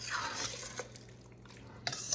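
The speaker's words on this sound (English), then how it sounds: "stir this really, really well. I think you can see that in the pot." A spoon stirs a cheesy green bean casserole mixture in a pot, giving soft scraping, sloshing strokes with a few sharper clinks against the pot's side, quiet and close.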